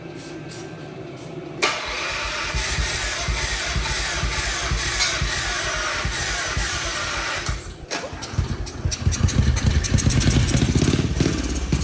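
A small carbureted engine with a CVT, fitted to a Little Tikes Crazy Coupe, catches abruptly after a couple of seconds and runs loud and close, then dips briefly and carries on with a rougher, revving clatter.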